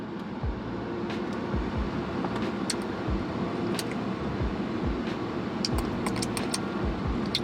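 Steady road rumble from inside a car on a long drive, a continuous low hum with occasional light clicks and rattles, no talking.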